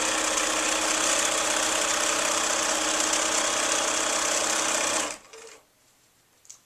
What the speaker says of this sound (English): I continue sewing.